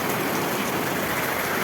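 Rain falls steadily at the start of a rainy spell in a village home, a dense, even hiss that stays constant for its whole brief length with no voices.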